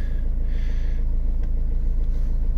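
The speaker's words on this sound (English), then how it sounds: "We're revving again." A Nissan Primastar van diesel engine with a boost pressure sensor fault, revving with a steady low rumble and a brief rise in pitch, heard close and continuous.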